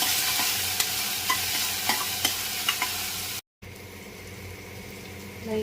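Onions and ginger garlic paste frying in ghee with cumin, green chillies and curry leaves, a steady close sizzle and crackle with spoon stirring clicks at regular intervals, briefly cutting out before the sizzle resumes more softly.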